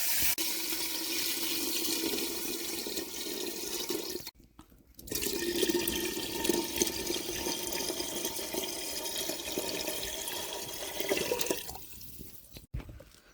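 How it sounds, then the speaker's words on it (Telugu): Water pours steadily into a cooking pot while rice is being prepared for bagara rice, a continuous loud rush that breaks off briefly partway through and then resumes close by. "ఇదిగో ఇలా సరిపోను నీళ్ళు పోసుకోవాలి"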